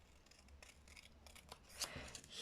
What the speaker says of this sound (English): I cut the 4 mini squares on this composition carefully.